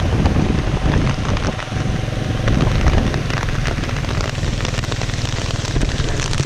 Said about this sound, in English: You get like a tropical rain, and it's really, really heavy.